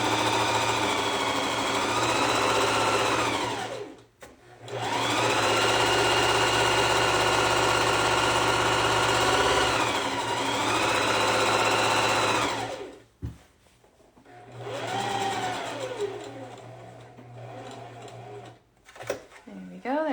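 A sewing machine running long bursts of gathering stitches, a loud close mechanical whir that stops and restarts several times, with brief pauses between runs and a person talking at moments.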